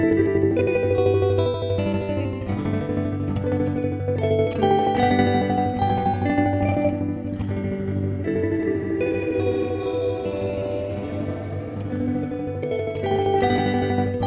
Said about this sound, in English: I'm making grains that are distributed all over the stereo field, to, I'm making grains with reverb